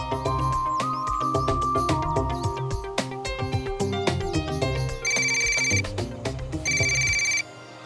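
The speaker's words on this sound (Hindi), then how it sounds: "अब मुझे फोन कर रहा है।" A mobile phone ringtone plays loud and steady, a repeating electronic melody with bright bell-like chimes that stops just before the end.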